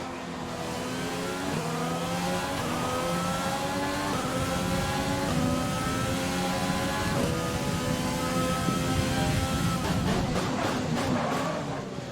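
A Formula 1 race car engine in the F1 2020 racing game whines loudly and continuously, its pitch climbing through repeated gear changes that each drop the tone before it rises again.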